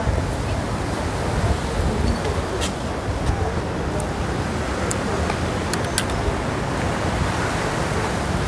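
Surf rolling in at Matahari beach near Sanur harbour, Bali, a steady broad wash of waves mixed with wind buffeting the microphone, continuous and fairly loud throughout with no distinct breaks.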